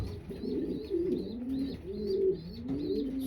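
Racing pigeon cooing close by, a steady series of soft, rolling coos repeating every second or so, alone without any talk.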